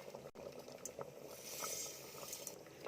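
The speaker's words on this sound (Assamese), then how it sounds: "এয়া চাওক বগৰীখিনি উতলি আছে আৰু মই লো ফ্লেমত ৰাখিছোঁ।" Dried jujubes simmer in a pot over a low gas flame, giving a steady soft bubbling hiss with faint occasional clinks, continuous and fairly quiet throughout.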